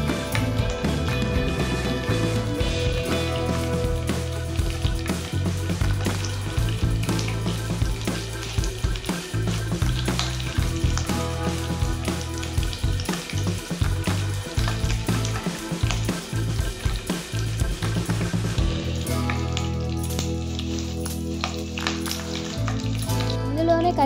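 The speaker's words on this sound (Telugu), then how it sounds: "ఆయిల్ కొంచెం వేడైన తర్వాత పోపు దినుసులు వేసుకోండి" Tempering spices, curry leaves and chillies crackle and sizzle in hot oil, a continuous close fry running under steady background music.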